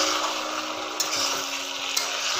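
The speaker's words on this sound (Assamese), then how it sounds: "এয়া মাংসখিনি মই ভাজি আছোঁ।" Pigeon meat sizzles gently in a pan while a utensil scrapes and stirs, with a couple of light clicks.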